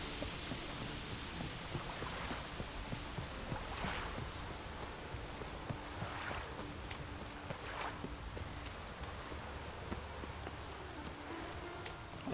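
Steady rain falls in The Witcher 3, a soft continuous hiss of drops with faint patter and a low background hum throughout, no voices.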